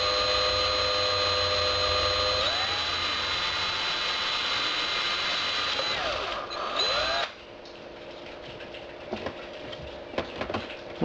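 A power drill bores a 7/32 inch hole through the dashboard of a Saab 9-3, giving a steady, close whine for about seven seconds before stopping, followed by a few sharp clicks.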